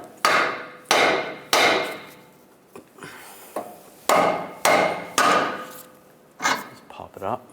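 A hammer strikes the steering knuckle of a 1998-2010 Volkswagen Beetle front end to knock it off the outer tie rod: a series of sharp metallic blows, about eight near and loud hits in irregular pairs, with small clanks between.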